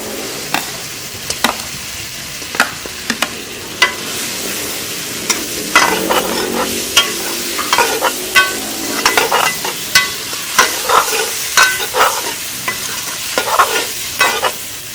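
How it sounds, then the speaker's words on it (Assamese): Pre-fried meat stir-fried in a pan with chutney, soy sauce and tomato ketchup during outdoor cooking: a close, steady sizzle broken by frequent sharp clanks and scrapes of the spatula, with no talking. "মাংসখিনি অলপ ভাজাৰ পিছত আমি ডাঙৰ ডাঙৰকৈ কাটি থোৱা পিঁয়াজ আৰু কেপচিকামখিনি দি দিলোঁ"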